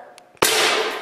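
A single sharp gunshot cracks out close by in a garage while shooting at the overhead lights, then a sustained hiss of noise follows after the blast.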